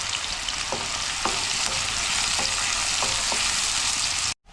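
Two large chopped onions sizzle steadily in hot oil in a home kitchen pan, a continuous close frying hiss with a few brief stirring clicks, no voices, cut off abruptly near the end.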